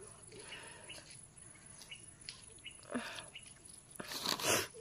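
Crunchy snack biscuits are being eaten, giving faint, irregular crunching bites that grow louder toward the end, set against a quiet outdoor background of insects and birds.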